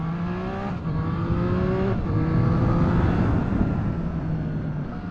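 A 2021 Triumph Street Triple RS motorcycle on its standard exhaust pipe revs steadily and loudly, with rising and falling engine harmonics and airbox induction noise, heard close and alone.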